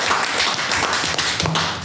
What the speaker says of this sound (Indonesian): saya sangat tepuk tangan dulu